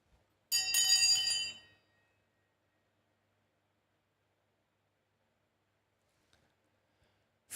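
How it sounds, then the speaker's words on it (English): Stock market opening bell sound effect, a single loud, bright metallic ring that decays over about a second, followed by silence. "Let's get ready to ring the bell."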